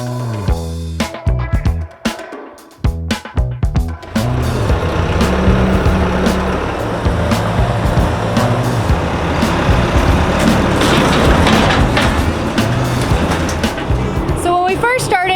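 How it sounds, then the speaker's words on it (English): A Bobcat skid-steer loader drives and dumps debris into a dumpster, starting with clanks and knocks, then a loud sustained engine drone with rattling, while a voice talks over it. "We were driving the Bobcat to the back of the dumpster and driving it up in and dumping stuff."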